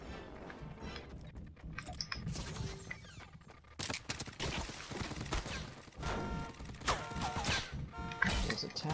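Pump shotgun fire in Fortnite, several sharp blasts and mechanical clacks scattered among crashing in-game sounds, fairly faint overall and irregularly timed.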